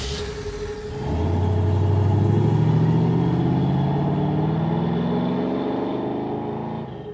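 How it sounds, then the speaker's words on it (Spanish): A car engine revs up at a street drag race, rising from a low idle into a loud sustained climbing roar that holds close and then eases slightly, with no talk. "al oír el motor de aquel auto que Rodrigo venía manejando"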